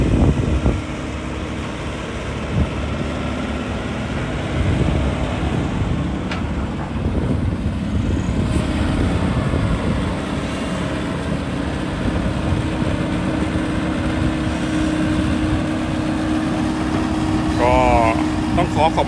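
SANY SY75C mini excavator working in a narrow space pushing soil under a bridge, a steady diesel engine drone with wind noise while someone talks over it throughout.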